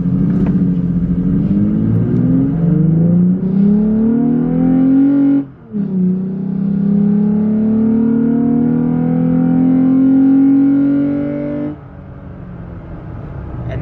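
Lifted 2020 Toyota Tacoma under full throttle, a loud close engine drone climbing steadily in pitch, a short drop at a gear change, then rising again before easing off, no talk.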